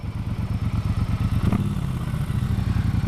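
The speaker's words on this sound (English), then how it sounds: "Triumph Bonneville Bobber 1200. Sure. Just listen to that motor." A Triumph Bonneville Bobber 1200 with a 270-degree parallel-twin engine idles close by, loud and steady with an uneven, lumpy pulsing beat, and one short revving swell partway through.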